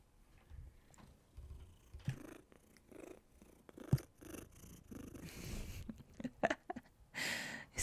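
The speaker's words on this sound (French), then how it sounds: "Écoutez-moi ce ronron." Domestic cat purring close up, a soft rhythmic rumble pulsing with each breath, quiet and intimate, with small handling noises.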